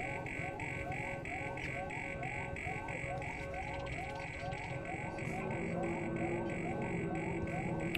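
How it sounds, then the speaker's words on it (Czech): A repeating electronic alarm in the video game Alien: Isolation pulses at a steady rhythm, faint and droning beneath low ambient hum. "Ten alarm je nepříjemnej."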